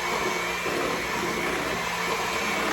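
An electric hand mixer whirs steadily while beating carrot soufflé batter with six eggs, a loud, continuous motor drone with no pauses or speech.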